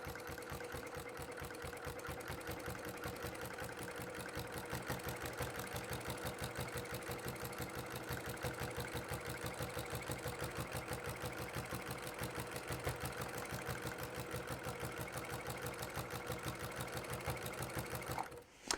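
A sewing machine with a bent needle chugs through thick minky fabric seams of a weighted blanket, a steady, fast, even mechanical rhythm running nonstop and close before stopping abruptly at the end.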